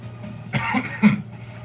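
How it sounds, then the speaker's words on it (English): A person coughs a couple of times in quick succession, close and moderately loud, with a throaty rasp between short quiet gaps. "I'm coughing for no reason."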